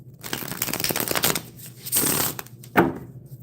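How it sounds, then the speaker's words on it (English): New tarot cards being shuffled by hand, a run of dense papery riffling and slapping bursts that come in uneven clusters, fairly close, with no talk over them. "These cards are still new to me. Haven't used them that often, so they're a little difficult to shuffle."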